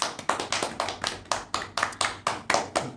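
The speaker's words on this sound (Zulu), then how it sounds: "Kancanishe leni ihlombe." Hands clap in a steady, regular rhythm as an audience gives applause, with about a dozen sharp, evenly spaced claps close by and no voices over them.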